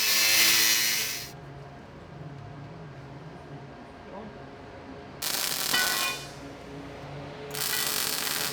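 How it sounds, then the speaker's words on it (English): Three loud bursts from an angle grinder with a 1mm disc cutting a gap between steel plates on a light armoured car restoration, harsh and hissing, each lasting one to two seconds with quieter workshop pauses between. "I'll just run a 1mm grinding disc through there"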